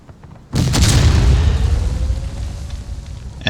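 A cannon shell explodes in a Civil War strategy video game, a sudden loud boom after a quiet start that rumbles on and slowly fades, with a faint high whine trailing through it.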